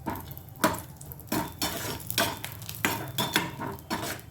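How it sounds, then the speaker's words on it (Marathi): Grated coconut is stir-roasted in a pan for a Maharashtrian brinjal dish, with a spatula scraping and knocking against the metal in a series of close, rhythmic strokes over a faint sizzle. "त्याच पॅनमध्ये आपण आता थोडंसं खोबरं पण टाकणार आहोत. खोबरं पण छान असं लाल होईपर्यंत परतून घेणार आहोत."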